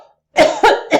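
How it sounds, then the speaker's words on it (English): Three deep, forceful coughs from the belly, demonstrated as a breathing exercise while lying on the floor, come in quick succession, close and loud, each a short chesty burst after a brief breath. "I need deep belly cough like this."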